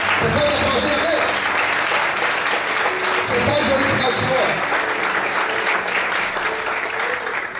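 Church congregation clapping for God during a sermon, a thick continuous roar of many hands that stays loud and even, while a preacher speaks over it.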